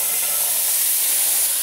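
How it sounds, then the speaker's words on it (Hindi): Chickpeas frying in hot spiced oil for chole, a steady broadband sizzle and hiss held evenly at close range with no talk. "देखिए अब इसमें अब हम डालेंगे चने और उनको अच्छे से फ्राई करेंगे"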